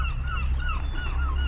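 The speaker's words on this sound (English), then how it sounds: "A lot of seagulls about today." Gulls call repeatedly at a winter beach in Aldeburgh, harsh honking cries rising over a steady low rumble of wind or surf, fairly near and continuous.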